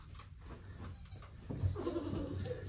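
A newborn's thin, wavering cries rise and fall in short bursts, close by and moderately loud, with some background rustling.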